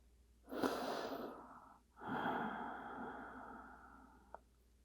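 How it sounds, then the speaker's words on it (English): Two slow, deep breaths during a cool-down yoga stretch, each a long airy exhale following a softer inhale, close and quiet in an otherwise still room. "Take deep breaths in and out."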